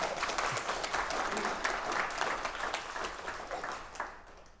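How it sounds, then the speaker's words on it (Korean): An audience at a blockchain technology lecture gives a brief round of applause. The clapping is faint and distant and fades out after a few seconds. "이때는 박수도 좀 쳐주셔야 되는데."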